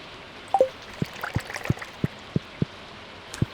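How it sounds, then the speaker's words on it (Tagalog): Rain falling in a video game: sparse, distinct droplet ticks and soft trickling patter at an irregular rhythm, quiet and close, with no talking. "Ngayon, Monday, umuulan."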